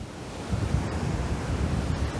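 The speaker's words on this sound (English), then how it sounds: "it is so windy out here." Strong wind blows on the shore of Lake Superior, battering the microphone with a loud, continuous low roar over faint surf.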